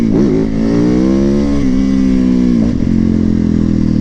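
A cheap motorcycle engine revs hard up close while riding, its pitch rising and falling in short bursts with some clattering, loud and continuous.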